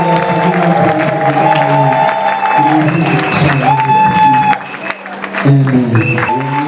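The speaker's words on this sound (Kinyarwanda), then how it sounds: "kubwa Yesu turahaguruka tugakoma amashyi tukavuza n'impundu" A Sunday church congregation claps and ululates together: loud, continuous crowd applause with high wavering trilling cries rising and falling over it, dipping briefly before surging again.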